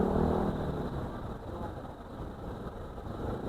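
A borrowed motorcycle ridden by a man, its engine note a steady broadband rumble that is loudest at the start and then holds fairly even, close by, with a possible voice in the background.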